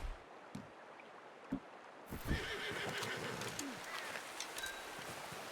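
A horse whinnies amid outdoor ambience while hunting in the open-world game Red Dead Redemption 2, with scattered bird coos and faint hoof clops nearby, the neigh rising after a quiet start and filling the middle of the clip.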